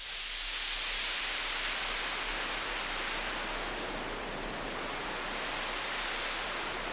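Synthesizer noise run through a band-pass filter gives a steady, airy hiss weighted toward the upper range, continuous and even for several seconds with no other sounds.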